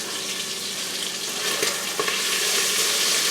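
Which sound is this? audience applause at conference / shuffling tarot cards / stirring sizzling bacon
stirring sizzling bacon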